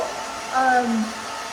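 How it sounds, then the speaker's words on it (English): A Fabulous Pro blow dryer runs with a steady whooshing hum, close and continuous, with a brief louder swell partway through. "I love the Fabulous Pro blow dryer."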